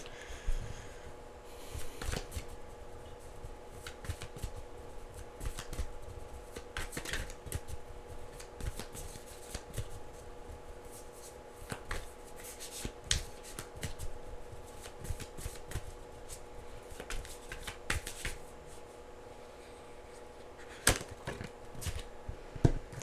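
Tarot cards being shuffled in repeated crisp riffles and soft slaps, steady and close, with a faint background hum and no talking.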